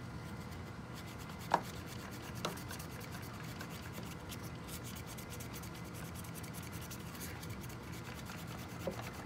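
A glass clarinet mouthpiece being sanded with sandpaper wrapped around a file, giving a steady, faint, continuous rubbing with a few small clicks and taps, close up and without speech.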